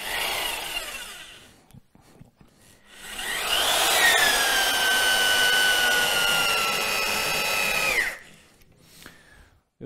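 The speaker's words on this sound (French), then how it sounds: "Aucun problème pour visser des vis de grande taille." A Festool Quadrill DR 20 cordless drill drives a 12 mm screw into pre-drilled wood, whining steadily and loudly for about four seconds with a rising, then falling pitch, framed by short quieter handling noises.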